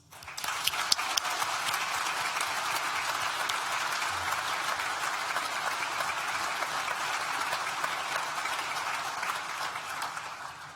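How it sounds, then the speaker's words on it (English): Steady applause from an audience at a university graduation ceremony, many hands clapping in a dense continuous wash that starts suddenly and holds for about ten seconds before tapering. "You deserve a massive round of applause."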